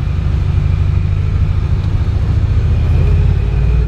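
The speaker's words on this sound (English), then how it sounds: "So this is a V8 big turbo, just over 420 horsepower." A V8 big-turbo supercar engine of just over 420 horsepower rumbles steadily at close range, a deep continuous drone with no break and no voices.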